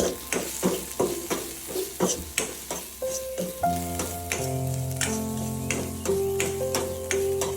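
A spicy masala mix for a vegetable sandwich stirred in a pan with rhythmic scraping strokes over a faint sizzle, while a tonal musical melody comes in partway through and continues under the stirring.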